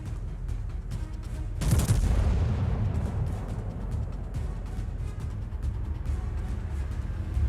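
The main guns of the ARP Kirishima, a Kongo-class battleship in World of Warships, fire a salvo at a Fuso: one heavy, booming report with a long rolling rumble, set over steady low battle noise.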